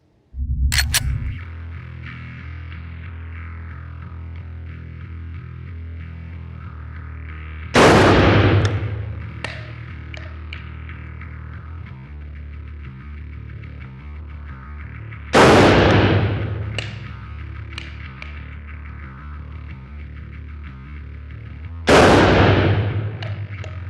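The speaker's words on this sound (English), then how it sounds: "watch me shoot it in this position for a couple rounds in slow motion, because you'll notice that I won't have that much control over the shotgun" Shotgun fired in slow motion, three heavy booms spaced several seconds apart, each followed by a long stretched rumbling decay over a low steady hum.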